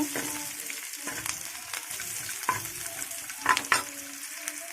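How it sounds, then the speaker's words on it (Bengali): Chopped onion, browning for a taro-leaf dish, fries in a pan with a constant close sizzle. A few clinks of stirring break through it. "পেঁয়াজ কুচি দিয়ে দিলাম। পেঁয়াজটা একটু ব্রাউন কালার হয়ে আসছে"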